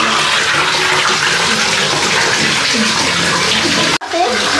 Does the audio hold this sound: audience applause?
no